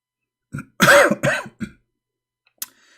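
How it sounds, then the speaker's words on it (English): A few short, close coughs in quick succession, then silence and one more brief cough near the end. "I'm coughing in front of the mic."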